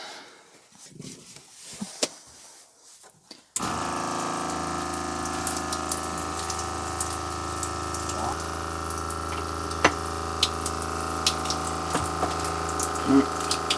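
Water from leaking campervan plumbing in a Peugeot Boxer van sprays and splashes continuously under a steady pump-like drone, starting abruptly after a few seconds of quieter handling noise and running loud and unbroken with small knocks.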